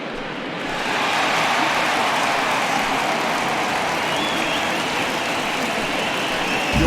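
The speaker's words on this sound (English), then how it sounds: "he receives a nice ovation from this home crowd" Home crowd in MLB The Show 20 gives a sustained ovation, a dense, steady wash of applause that swells in after the first second and holds loud and even to the end.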